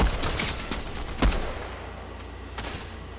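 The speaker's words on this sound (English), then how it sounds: "That's somebody shooting at me." Rapid gunfire in Fortnite Zero Build, a quick burst of shots up front, then a sharper single blast and a few fainter later shots against a low background.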